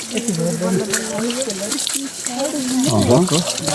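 Cold water runs steadily at a drinking-water spot along a hiking trail near a viewpoint tower in Nawalpur, Nepal, a continuous trickling and gushing close by beneath people talking.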